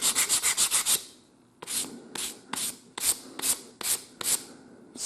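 Wooden steam engine piston edges are rubbed smooth to remove graphite marks, first a fast burst of short scraping strokes, then slower, separate strokes after a brief pause, close and fairly loud with no talk.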